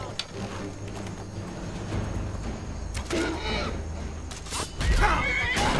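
A horse in the Skyrim video game lets out whinnies among combat noise and rustling, the neighs standing out clearly over a low rumbling background, with a few sharp thuds near the end.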